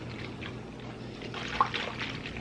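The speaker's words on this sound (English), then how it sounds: "And stir to dissolve." Spoon stirring a 6-ounce package of strawberry Jell-O into 2 cups of boiling water, a soft liquid swishing and trickling with a couple of faint clinks against the bowl.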